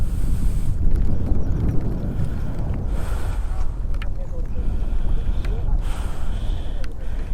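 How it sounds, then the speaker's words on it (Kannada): Strong wind roars steadily at TK Falls near Bangalore, a dense constant rush buffeting close to the microphone under overcast, lightly rainy skies, with brief higher gusts and rattles. "ಹೆವಿ ಗಾಳಿ"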